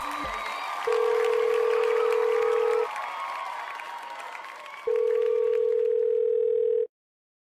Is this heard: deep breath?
no